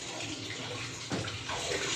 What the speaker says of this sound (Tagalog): Add tayo ng konting tubig para mayroon na siyang sabaw-sabaw guys.